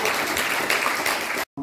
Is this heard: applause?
yes